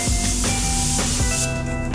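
Morphe makeup setting spray misted from a pump bottle, a short close hissing burst or two laid over faint background music.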